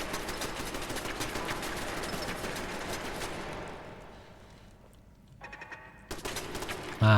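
Sustained rapid turret fire in Fallout 4 chatters steadily for several seconds, then fades out, followed by a short, sharper burst and one more loud volley near the end.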